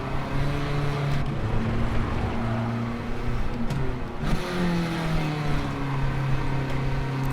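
A race car engine in Gran Turismo 7 drones steadily, rising and falling in pitch as the revs change through gear shifts, continuous and fairly loud with no talk over it.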